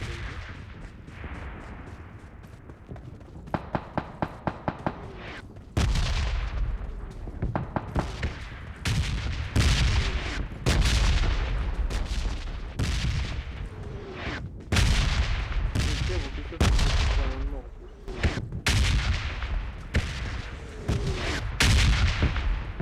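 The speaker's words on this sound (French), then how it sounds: "La plupart des explosions, je les vois." Bomb explosions and gunfire in the PUBG Mobile video game boom loudly in repeated, irregular bursts, with rapid cracking shots between the heavier blasts throughout.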